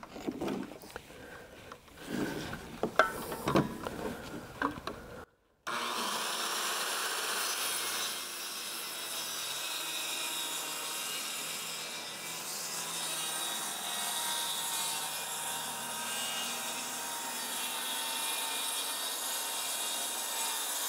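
A circular saw with its blade set one inch deep rips through plywood and OSB on a concrete floor for a scarfing jig. Brief handling clatter gives way to a loud, steady cutting roar lasting about fifteen seconds.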